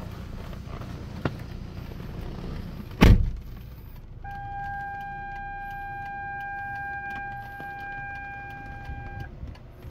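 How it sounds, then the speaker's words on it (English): Power-folding side mirrors on a 2013 Hyundai Veloster 1.6 GDI retracting, with a steady electric motor whine lasting about five seconds, preceded by a single loud thud. "automatic side mirror folding."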